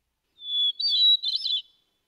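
A clear, high hermit thrush song: a sustained pure whistled note followed by a rapid, fluty warble, alone in silence.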